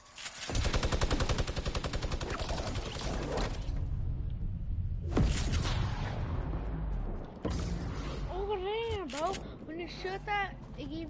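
Rapid bursts of video game gunfire crackle loudly through the first few seconds, followed by more sporadic shots and whooshing effects, with a voice talking over the action.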